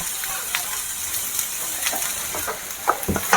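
Boiled Maggi noodles with masala are fried in a pan, giving a steady sizzle broken by scattered scraping and stirring clicks, close and fairly loud, with no talk over it.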